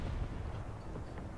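A tank cannon firing in War Thunder, a single heavy, booming shot with a dense low rumble that fills the short moment without any voice over it.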